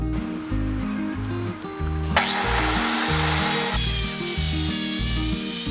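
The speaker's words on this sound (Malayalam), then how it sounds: "ടയറിൻ്റെ വലുപ്പത്തിൽ വീതി കൂടിയ പട്ടിക നമുക്ക് കട്ട് ചെയ്തെടുക്കാം" A wide wooden plank is cut to the size of a piece of old bike tyre with a power saw, which grinds loudly and steadily through the wood under a pulsing low mechanical rumble, with no talking.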